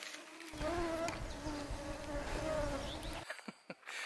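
Insects buzzing steadily in the Algonquin woods, a dense close drone with wavering whine tones that cuts off abruptly, followed by a few faint rustles.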